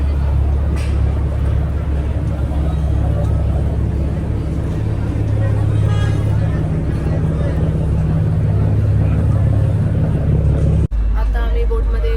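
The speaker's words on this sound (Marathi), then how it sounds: "बोटीने चाललो आम्ही आता जातोय इथे बोट लागले आम्ही ह्या बोटमध्ये जाऊ" A boat engine drones steadily and loudly, with a deep rumble, as passengers board an AC passenger boat near Mumbai. Voices of people talking mix into the noise until it cuts off abruptly near the end.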